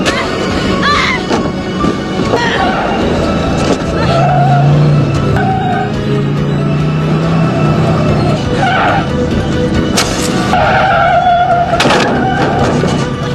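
A car in a film speeds off hard with skidding, squealing tires, the engine roaring loudly throughout amid crashes and thuds.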